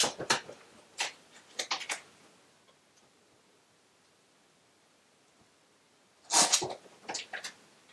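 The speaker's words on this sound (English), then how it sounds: "He's just going crazy over a scrunched up piece of paper, which is his favorite toy" A kitten bats and pounces on a scrunched-up paper ball, producing quick bursts of crinkling and skittering indoors, with a long quiet stretch between two clusters of rustles.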